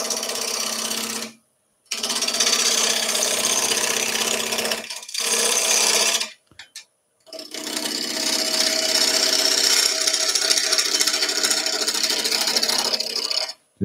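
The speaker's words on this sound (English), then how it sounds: "lathe speed to zero as usual and turn the lathe on" A wood lathe turning a pumpkin box, with a tool cutting and rasping the spinning wood in long, loud, steady passes broken by several short silent pauses.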